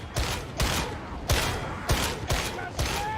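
Gunfire in the Warhammer 40,000: Darktide video game, a series of about six sharp shots at uneven intervals over a steady din of combat noise, loud and close.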